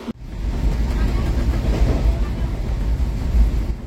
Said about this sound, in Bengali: ট্রেন সঠিক সময়ে শালিমার স্টেশন থেকে ছাড়লো